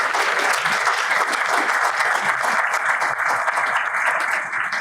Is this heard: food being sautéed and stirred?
no